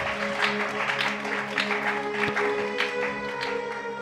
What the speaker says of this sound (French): On applaudit pour le Seigneur.